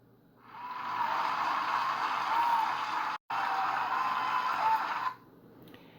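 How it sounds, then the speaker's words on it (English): An audience applauds honorable mention class doors at a school door-decorating contest, a dense steady clapping that swells in, holds for about four seconds with a brief dropout, then cuts off. "Let's have a round of applause for those honorable mention doors."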